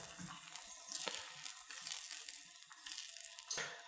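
Butter melts in a pan as a sauce is stirred for baked salmon with mustard dill sauce. A quiet, close sizzle is broken by soft scraping and clinking strokes from the utensil.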